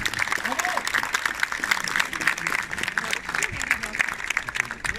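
Audience applause at a DeLorean ride event at the Kinepolis cinema in Lomme: steady crowd clapping fills the whole stretch at even volume, with a voice talking over it.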